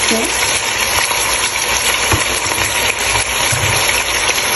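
Mutton pieces frying in a pan for bhuna gosht, a steady dense sizzle that stays loud and close throughout, with occasional knocks of a utensil.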